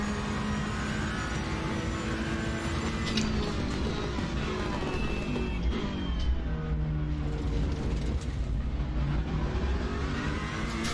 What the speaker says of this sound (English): You can just hear that engine scream.